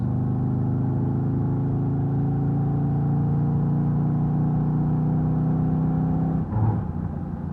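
A Fox Body car with an LS swap drones steadily at cruising speed from inside the cabin, its engine holding a low even tone before a brief shift in pitch near the end as the throttle opens.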